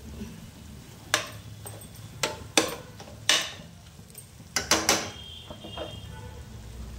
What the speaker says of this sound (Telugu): ఇందులో ఆ మటన్ని మనం తీసుకొని వేసుకోవాలి